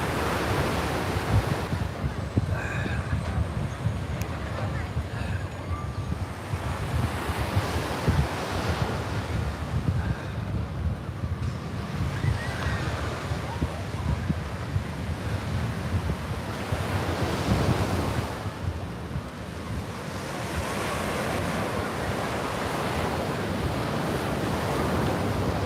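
Ocean surf rolls steadily onto Coney Island beach at night, with gusty wind buffeting the microphone; a continuous broadband wash of breaking waves and rumbling wind noise, no voices.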